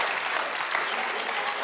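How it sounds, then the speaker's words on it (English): Continuous applause from an audience fills a short burst, a dense wash of many hands clapping at once with a faint voice emerging near the end. "Stop all that clapping!"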